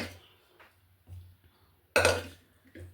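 Sprouted horse gram going into a pressure cooker, heard as a few sparse clinks and knocks of metal and grains, with one louder clatter near the end, in a quiet kitchen.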